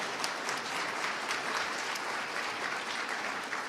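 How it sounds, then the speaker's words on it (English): An audience at the 2022 Oklahoma governor's debate gives steady, even applause that holds throughout at a moderate distance, with no voices over it. "Give them a round of applause."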